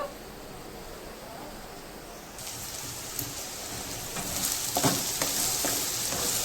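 Grains frying in a pan, with a steady sizzling hiss that swells louder partway through, broken by scattered crackles and stirring scrapes, close up and without talk.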